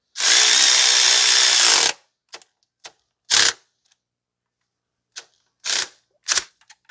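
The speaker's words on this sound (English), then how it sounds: "We're going to proceed to tighten up the pivot bolt now." Tightening the 12 mm alternator pivot bolt on a 2012 Toyota Corolla 1.8: one loud two-second whir of a power tool, close by, then a series of short, sharp ratchet-like clicks with pauses between them.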